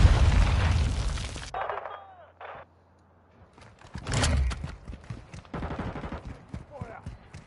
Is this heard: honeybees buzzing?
no